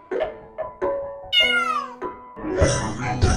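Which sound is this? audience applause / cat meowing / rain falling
cat meowing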